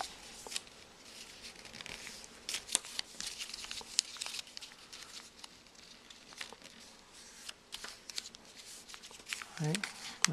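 Paper is folded by hand to make an origami box: soft crinkles and rustles with sharper creasing snaps, quiet and close, with a faint voice under them.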